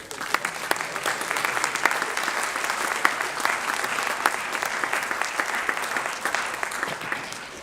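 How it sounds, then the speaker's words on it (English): A crowd of people at a school board of trustees meeting claps for students, steady dense applause holding evenly throughout. "Can you all join me for one more big round of applause for these students?"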